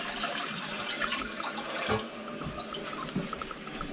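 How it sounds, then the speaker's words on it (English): Rushing, gurgling water as a toilet flushes nearby in lodging along Alaska's Dalton Highway, loud and continuous with a brief surge partway through. "I better flush it from whoever used it last."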